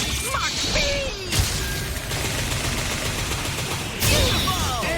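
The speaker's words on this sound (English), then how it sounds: "Joe's second hyper combo is Mach Speed, done with the same Dragon Punch into attack motion as in TVC." Viewtiful Joe's Mach Speed hyper combo in Capcom's fighting game erupts in a loud flurry of rapid impacts, crashes and whooshing zips, with bright swooping effects at the start and again near the end, with shouted voices mixed in.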